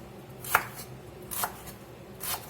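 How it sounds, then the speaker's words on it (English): Three separate knife chops cut through rolled-up greens for gumbo z'herbs on a cutting board. Each crisp, close chop is spaced about a second apart over a quiet kitchen background. "Just going to roll these up. We're going to chop them."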